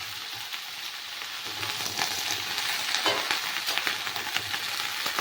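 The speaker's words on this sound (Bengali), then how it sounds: "সিম আর বেগুনটা দিয়ে একটু ভালো করে ভেজে নিতে হবে" Flat beans and eggplant fry in a hot pan for a Bengali mixed-vegetable dish, with a steady, close sizzle that builds slightly and is broken by light stirring scrapes.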